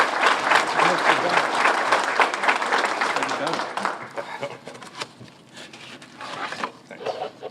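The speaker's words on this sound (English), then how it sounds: "Let me give you a clap." Audience clapping at a Kiwanis club Farm City Week gathering, loud and dense at first, then thinning into scattered claps and fading, with voices talking over the tail end.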